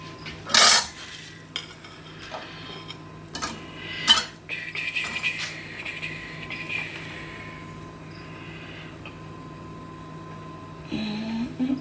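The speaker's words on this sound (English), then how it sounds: "Alright, more onions in the pan." Onions cooking in a pan while a couscous dinner is made, with clattering pans and cutlery and occasional clinks over a low, steady kitchen background and no talk.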